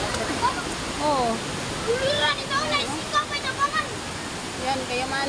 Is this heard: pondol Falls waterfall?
yes